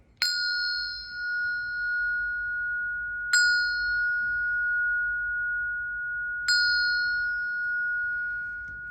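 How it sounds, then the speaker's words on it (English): A bell rings three times in slow succession, each strike clear and bright with a long ringing tail that fades before the next, in a quiet room. "So I'm going to hit the bell 3 times"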